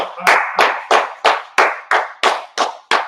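Nine sharp, evenly spaced hand claps, about three per second, ring out loud and close in a steady beat.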